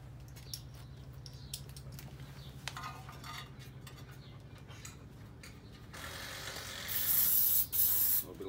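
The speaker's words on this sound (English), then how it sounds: "A little bit of lube on the threads because they've got to go a fair way into that boss." A brief hiss of lubricant spray onto bolt threads on a Rover four-stroke mower comes near the end, loud and close, after quiet clinks of metal handling.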